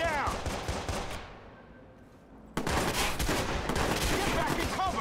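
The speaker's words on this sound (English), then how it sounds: "Shots fired. Shots fired. You're in the line of fire." Bursts of automatic gunfire in the video game Watch Dogs, a loud rattling volley that fades, a brief lull, then another dense, sustained burst of shots. Game voices sound in the background.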